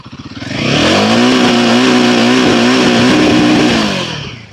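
A Royal Enfield Himalayan 450 single-cylinder motorcycle revs up through the range and holds a loud, steady high rev before easing off. The engine is close and the pitch climbs and wavers, with no voices.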